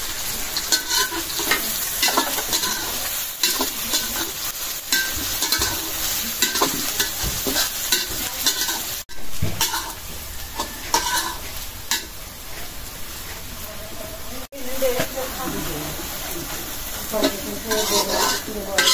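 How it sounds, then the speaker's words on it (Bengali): Onions fry in a hot pan while being stirred, a steady, loud sizzle with frequent scraping strokes running throughout, two brief sharp clatters of the pan. "পেঁয়াজ ভাজা হয়ে গেছে"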